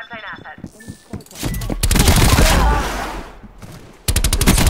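Rapid bursts of enemy gunfire in Call of Duty Black Ops Cold War, a dense fusillade of automatic shots cracking close and loud, with short pauses between volleys and some talk underneath.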